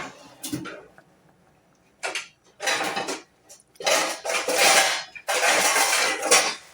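Metal lids and pans clatter and scrape in a home kitchen as a lid goes onto a pan of cashew masala, coming in a few close, loud bursts of clinking separated by brief quiet gaps.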